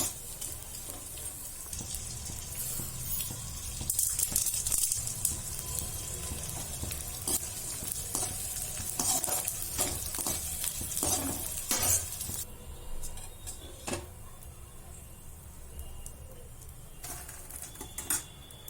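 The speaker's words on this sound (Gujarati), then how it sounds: "હવે આપણે ગુંદ તળી લેશું તે માટે ઘીને હાઈ ગરમ થવા દેવાનું છે" Pieces of edible gum (gond) fry a little at a time in very hot ghee, giving a steady crackling sizzle with sharp pops and light stirring clatter, close and fairly loud, with no one talking.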